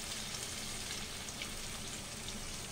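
Water goes into a pan of spiced boal fish curry, raising a loud, dense, steady sizzle and hiss that fills the moment close up, with no one talking.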